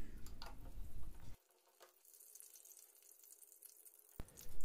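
About two spoons of desi ghee go into a hot kadhai, giving a soft frying sizzle that cuts out abruptly, then returns faintly with a few light stirring sounds.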